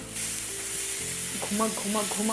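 Chilli garlic paste for vegetable 65 hits hot oil and sizzles loudly, a steady broadband hiss that swells as the paste spreads, with a few soft stirring taps near the end.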